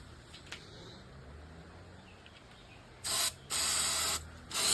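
An aerosol cleaner sprays onto an engine for an E30 to loosen gunk, three hissing bursts close to the microphone, the middle one longest, after a quiet stretch with faint clicks.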